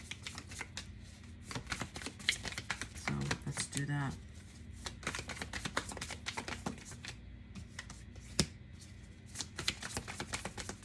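Tarot cards shuffled by hand in a steady run of crisp riffling and tapping flutters, close and clear, with someone talking briefly over them.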